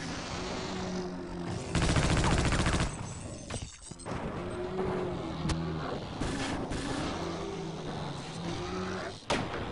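Rapid video game gunfire from Half-Life Opposing Force crackles in loud bursts, with a dense volley near the start followed by scattered single shots and sharp cracks over background game noise.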